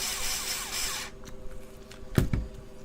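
A power tool drives two screws into a BlueSCSI build: a loud, steady whir runs for about a second, then, after a quieter gap with small rubbing sounds, two short, sharp bursts follow close together.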